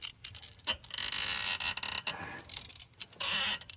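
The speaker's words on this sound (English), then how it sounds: "I'm gonna actually loosen them the rest of the way with the electric ratchet" An electric ratchet loosens spark plugs on a 2010 Chevy Silverado during a tune-up, giving bursts of rapid mechanical whirring and clicking broken by short pauses, close and fairly loud.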